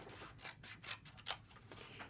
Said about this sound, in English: cut these out using a pair of scissors